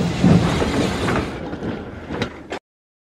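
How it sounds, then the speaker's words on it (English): The steam engine James puffs along pulling a long line of trucks, with rolling rail clatter and a couple of sharp clanks before the sound cuts off abruptly. "And James then puffed away with his long line of trucks."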